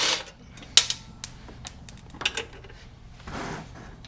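A wrench working bolts loose from the recoil starter of a Honda GX160 engine, a few sharp metallic clicks and ratcheting ticks spaced irregularly at close range over a quiet background, no talking.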